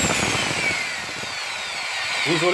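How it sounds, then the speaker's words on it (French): An electric drill plugged into a wall socket runs with a steady, close whine throughout, briefly rising in pitch near the end. "Je vais brancher une perceuse"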